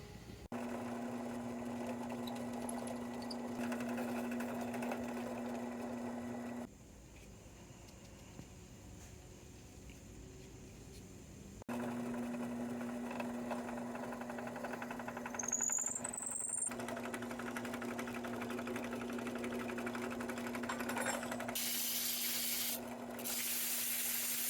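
A drill press spins a wheel like a lathe while it is sanded, giving a steady mechanical whir with rubbing hiss that stops briefly midway and then resumes for a long stretch, fairly quiet throughout.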